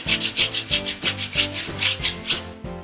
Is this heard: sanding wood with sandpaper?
yes